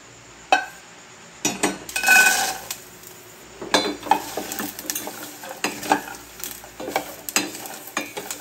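Chili peppers are stirred in a lightly oiled pan, with a spoon scraping and clinking against the metal over a soft sizzle. The strokes are close and irregular, with one longer scrape near the start.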